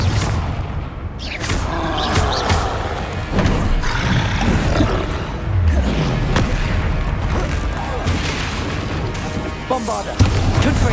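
Confringo spell blasts in Hogwarts Legacy gameplay, a chaotic run of loud booming explosions and roaring impacts layered with game sounds, with a voice shouting spell names over the top.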